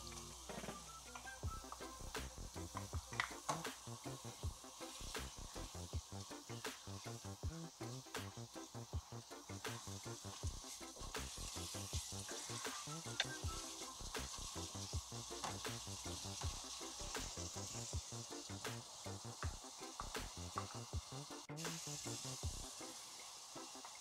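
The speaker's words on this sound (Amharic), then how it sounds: "ቅቤ አረጋለሁ።" Butter sizzles and crackles steadily in a hot pan while bread firfir with beef is being made, a continuous close frying hiss with dense popping throughout and no talk.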